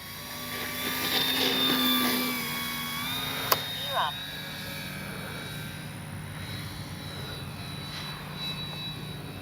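The engine of a Dynam F6F Hellcat RC model plane in flight drones steadily with high whining tones rising and falling, fairly distant, while a person talks over it.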